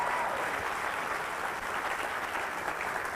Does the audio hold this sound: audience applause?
yes